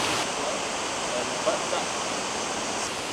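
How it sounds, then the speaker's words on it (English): Jungle waterfall on Lombok pouring directly onto a person, a steady, loud, close rushing hiss of falling water with faint voices beneath. "now you've got a waterfall pouring into your head"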